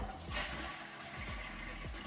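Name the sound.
Japanese toilet with integrated sink flushing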